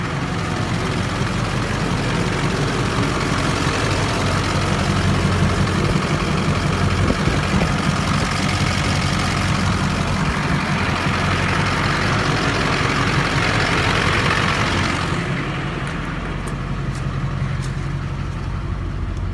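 A Duramax LLY diesel truck engine with a Banks ram air intake rumbles steadily at idle, low and continuous, then the sound drops slightly quieter near the end.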